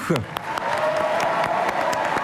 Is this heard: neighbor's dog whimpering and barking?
no